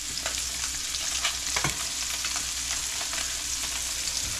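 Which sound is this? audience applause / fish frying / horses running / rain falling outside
fish frying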